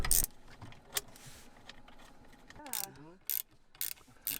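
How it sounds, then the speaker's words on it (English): Bolts come out of a Mercury 3.3HP outboard motor with quiet metallic ratcheting and clicking, a few sharp clinks and a short rising squeak from the wrench, close by and faint overall. "there's a bolt here that I'm gonna take off first, and then the other bolts"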